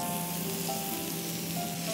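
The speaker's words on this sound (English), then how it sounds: "See, it's already started sizzling, isn't it?" Vegetables sizzling in a little butter in a pan, a steady, even frying hiss that stays constant from start to finish with no talking.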